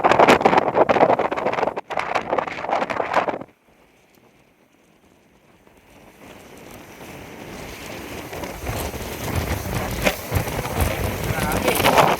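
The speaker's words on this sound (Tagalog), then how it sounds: "Grabe, lakas. Hangin." Strong wind buffets a fishing boat at sea. Loud, blustery gusts roar across the mic, ease to a quieter lull, then build again, with voices talking at times.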